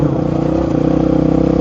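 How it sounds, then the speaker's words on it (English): Enduro dirt bike engine running steadily and loud while riding through puddles along country lanes, a continuous close buzzing drone with slight rhythmic pulsing throughout. "we're out on the old Enduro, going through the puddles, going through the lanes"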